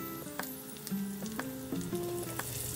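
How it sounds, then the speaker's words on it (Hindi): Sliced ginger and broken green chilies sizzle in hot oil as a tempering for a Pakistani mixed vegetable sabzi, a steady close frying hiss that runs throughout with no talking. "थोड़ी सी अदरक को हम स्लाइस में करके डालेंगे बघार में"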